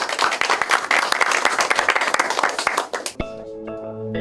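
Applause opening a meeting on shoe industry cooperation with lawmakers, dense steady clapping from a room of people for about three seconds, then stopping abruptly as a short musical tone follows.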